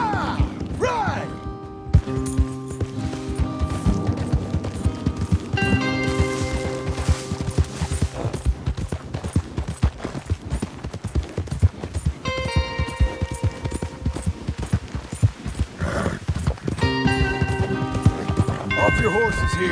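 Horses gallop in the video game Red Dead Redemption 2, a steady dense drumming of hooves throughout with music, gunfire-like cracks and characters talking over the top.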